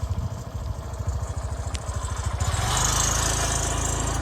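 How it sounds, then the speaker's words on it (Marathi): Diesel engine of an ST state transport bus drawing closer on a road through dense forest, a low pulsing rumble that swells steadily louder into a sustained roar. "आवाज आपणा एसटीचा येता बहुतेक एसटी येता"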